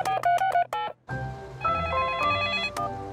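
Cartoon telephone dialing in a French Peppa Pig episode: a quick run of bright keypad tones in short rhythmic bursts, then a brief pause before a ringing tone with music underneath.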